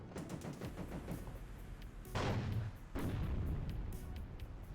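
Battlefield gunfire in the real-time strategy game WARNO with tanks, an Apache and snipers: rapid staccato shots and bursts at moderate distance, then two heavier crashing volleys with rumbling low booms, all fairly quiet.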